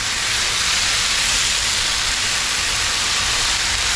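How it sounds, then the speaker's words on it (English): A couple of tablespoons of sherry hit a hot pan with chicken and vegetables, setting off a loud, continuous hiss of sizzling steam that holds steady throughout. "deglaze the pan good"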